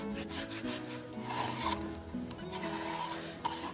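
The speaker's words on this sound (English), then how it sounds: "I'm just going to wax it all." Wax is rubbed by hand over sanded wood on a homemade wax warmer, giving a continuous close, soft scrubbing friction with steady back-and-forth strokes and no talk.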